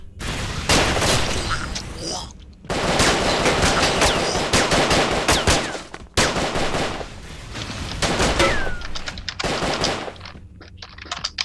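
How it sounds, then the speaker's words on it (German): A machine gun firing Molotov cocktails in a trashy shooter game rattles out long, loud, rapid bursts broken by brief pauses, with occasional crackling and bursting hits and a voice talking under the shooting. "Ein Maschinengewehr schießt Molotow-Cocktails."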